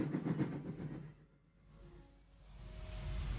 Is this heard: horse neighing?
no